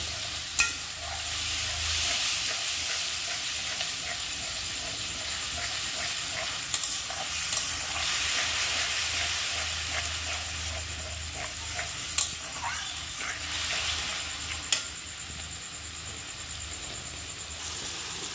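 Spice masala for a vegetarian potato curry with curry leaves and tomato, stir-fried in a pan, giving a loud continuous sizzle and hiss with occasional sharp clacks of a spoon against the pan, no voices.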